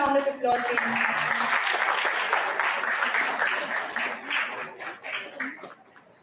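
Audience applause for an award winner at a dental sciences and oral health conference, sustained broad clapping across the whole stretch that tapers off toward the end, with no talk over it.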